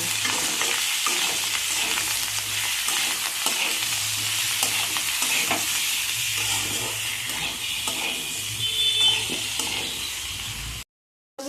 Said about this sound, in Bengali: এবারে এই মশলাটাকে আমি ভালো করে কষিয়ে নেব